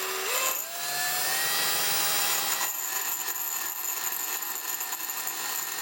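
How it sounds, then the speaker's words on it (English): A drill bores into the cast iron body of a Pfaff 230 sewing machine. The motor spins up quickly, then settles into a steady, close, high-pitched whine with a grinding edge. "And then I'm going to start here and drill."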